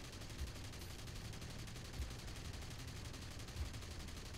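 Aircraft cannons on a Ki-61 fighter hammer at a B-25 bomber in the War Thunder video game, a rapid continuous burst of gunfire under an engine drone, with a few heavier thuds.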